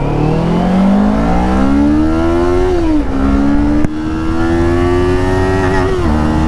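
A Kawasaki Ninja 500 motorcycle accelerates hard in first gear, its engine note climbing loudly in a sustained rev, with a brief dip at a shift or throttle blip before it keeps pulling, recorded close.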